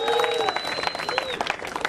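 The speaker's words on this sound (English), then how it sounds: "Give yourself a round of applause." Crowd applauding on the beach at the Rip Curl Narrabeen Classic surf contest, dense continuous clapping with scattered cheers and voices mixed in, a whistle-like tone briefly riding above.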